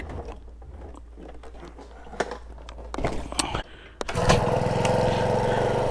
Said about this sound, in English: First pull with the choke on.